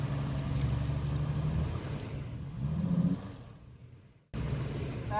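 An off-road truck stuck at an off-road park drones with a low revving engine while its wheels spin, the engine note rising and falling before cutting off abruptly and starting again.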